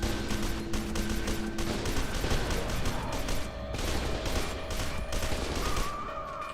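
Steady automatic gunfire in the video game F.E.A.R. 2, a continuous rattling stream of shots at moderate loudness running the full length, with a faint mechanical tone underneath and no talking.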